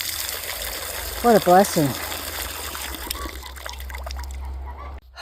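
Water gushes steadily from a frost-free outdoor faucet on a farm in winter, a continuous broadband rush running throughout while someone speaks briefly over it.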